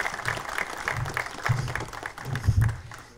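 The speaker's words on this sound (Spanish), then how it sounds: "Un aplauso." Audience at an intercultural conference day in Huelva gives a short round of applause, a brief patter of clapping heard at moderate distance.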